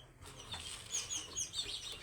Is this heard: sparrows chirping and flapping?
yes